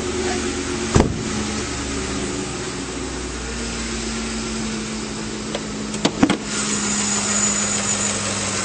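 A 2008 Ford F-150 SuperCrew XLT 4WD idles steadily with the hood open, a smooth, even hum with a faint whine, broken by a couple of short clunks near the start and end.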